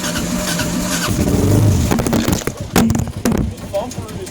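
A motorcycle engine catches and fires, sputtering into uneven revving bursts after a steady start, close and loud, with a person talking over it.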